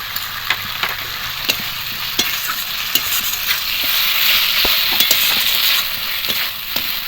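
Potatoes frying in a pan with a continuous sizzle, punctuated by sharp scraping and tapping as a spoon stirs them around the pan at close range.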